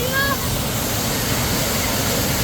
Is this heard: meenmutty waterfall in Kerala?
yes